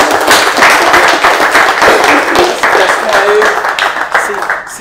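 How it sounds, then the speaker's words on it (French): A university audience applauds parents and students with dense, steady clapping that runs throughout, mixed with voices talking. "Je voudrais qu'on les applaudisse."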